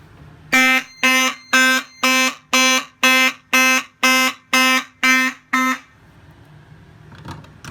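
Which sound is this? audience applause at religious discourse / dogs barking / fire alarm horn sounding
fire alarm horn sounding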